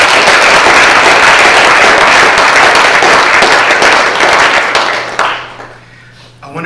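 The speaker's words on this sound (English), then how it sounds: "Can you give God a hand clap of praise for that?" A church congregation claps hands in loud, dense applause for about five seconds before it quickly thins out and fades to near quiet.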